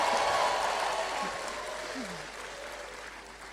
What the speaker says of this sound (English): All the queens clap for the big kings around them.